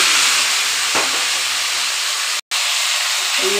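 Chicken pieces hit hot oil in a pan with cumin, ginger and onion, bursting into a loud, steady sizzling hiss that runs throughout, broken once by a brief dropout.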